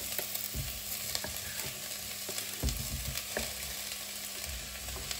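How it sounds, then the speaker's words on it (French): Leeks cooking in a pan give a steady close sizzle, broken by several low clanks and scrapes as they are stirred. "ce que je veux bien faire, c'est faire cuire bien les poireaux avant de poursuivre la cuisson"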